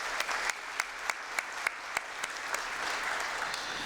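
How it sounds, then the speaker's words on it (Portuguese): Applause from the audience at a formal solemn session and medal ceremony, honoring the event staff: a steady wash of clapping with a few sharper individual claps standing out, moderately loud and continuous, no talking over it. "Peço até uma salva de palmas aos profissionais"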